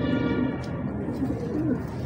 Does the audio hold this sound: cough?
no